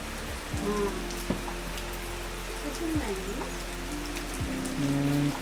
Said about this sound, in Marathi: पाऊस काय कमी होत नाही